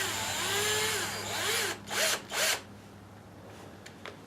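A cordless drill whirs in a few short bursts, first a longer run that changes pitch, then two quick triggers and a faint tick, close and fairly quiet, with no talking.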